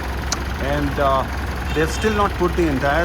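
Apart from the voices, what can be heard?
car engine idling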